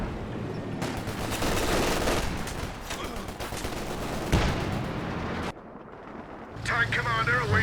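Werfer rocket artillery firing in Company of Heroes 2, a run of loud rapid launches and blasts in bursts, with a battle-game commentator talking over them.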